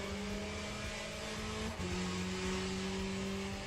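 Race car engine in the Le Mans Ultimate sim racing game, a steady sustained drone holding one pitch with a brief dip near the middle, continuous and moderately loud with no talking.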